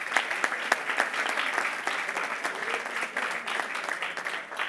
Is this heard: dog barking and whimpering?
no